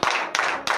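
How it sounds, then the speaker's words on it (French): A church congregation at a morning prayer service breaks into a few sharp, strong claps, three distinct bursts in quick succession, close and loud. "Vive l'acclamation"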